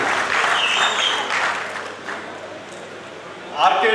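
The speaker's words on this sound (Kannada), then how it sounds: "ಮೊದಲಿಗೆ ಅವ್ರಿಗೆ ಜೋರಾದ ಒಂದು ಚಪ್ಪಾಳೆಯನ್ನು ಎಲ್ಲರಿಗೂ ಚಪ್ಪಾಳೆ ತರ್ತಾರೆ" Audience applause at the RK Tigers Sports Club jersey and trophy launch in Hubballi fills a loud, steady stretch, fades slightly, then swells again at the end, with voices mixed in.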